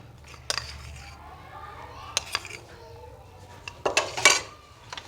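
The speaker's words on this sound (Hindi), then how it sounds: "अब हम इसको अच्छे तरीके से बीट कर लेंगे।" Two eggs and two tablespoons of maida beaten in a bowl: irregular sharp clinks of a utensil against the bowl, sparse at first and then a louder cluster of rapid strikes near the end.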